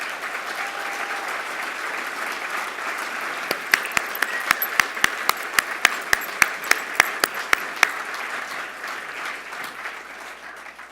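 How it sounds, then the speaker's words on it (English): Sustained audience applause for Hall of Fame honorees at an award event, with a string of loud, evenly spaced claps from one nearby person cutting through the steady crowd wash midway. "Can we get a round of applause?"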